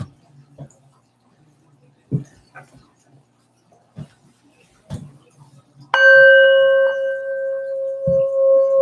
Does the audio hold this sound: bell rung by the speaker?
yes